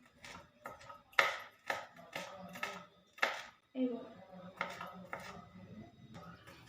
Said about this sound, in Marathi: ह्या चिरून घ्यायचं आहे तर मी बारीक चिरून घेणार आहे